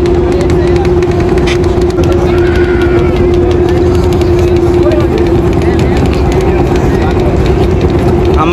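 A passenger launch travels on the river near the Meghna Bridge in Bangladesh, its engine giving a steady, loud drone with a constant low hum throughout, and voices speak over it.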